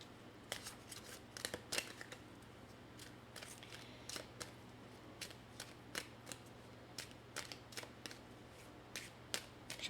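Tarot cards being shuffled and drawn, a series of short crisp snaps and flicks in uneven bursts, close but quiet over a low steady hum, with no talk.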